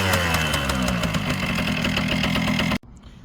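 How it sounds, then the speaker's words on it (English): A kick-started Kawasaki KM100 motorcycle engine runs at a steady, loud idle for almost three seconds, then cuts off abruptly into near silence. "Kawasaki KM100, just kick it."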